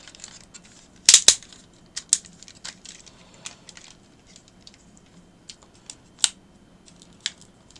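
A plastic Geo Mecha Beast Guardian 02 Caiman transforming toy is folded and twisted. It gives sparse, sharp clicks and ratcheting snaps at irregular intervals over near-silence, with one louder cluster of clicks early on.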